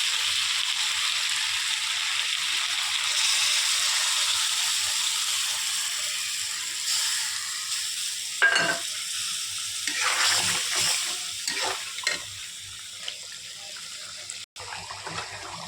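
Water pours into a pan of braising meat with a steady hiss and splash, fading into quieter stirring with scattered scrapes and clinks near the end.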